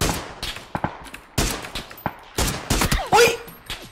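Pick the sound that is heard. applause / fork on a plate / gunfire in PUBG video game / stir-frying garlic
gunfire in PUBG video game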